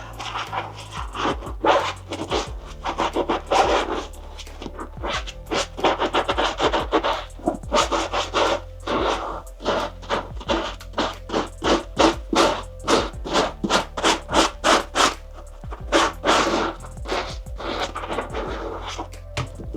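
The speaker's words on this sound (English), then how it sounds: "get underneath the boot, the sole. Get all that gunk and dirt in there." Stiff brush scrubbing gunk and dirt from the sole of a Lucchese lizard-skin cowboy boot, a rapid run of close, loud, rasping scratch strokes in uneven bursts, speeding into a steady rhythm near the end.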